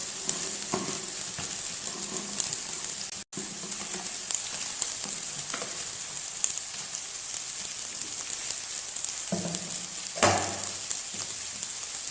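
Okra slices fry in hot oil, a steady loud sizzle and crackle that runs throughout, with occasional stirring scrapes and brief thuds from the pan.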